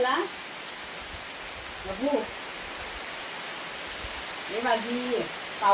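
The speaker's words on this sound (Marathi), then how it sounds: "पाऊस आला पाऊस" Rain falls with a steady, even hiss throughout, and a few short bursts of voices break in over it.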